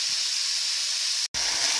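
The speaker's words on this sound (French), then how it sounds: "Donc là, la viande est en train de dorer" Spiced beef browns in a hot pan for a ginger beef stir-fry, giving a steady, close, bright sizzle with a brief dropout near the end.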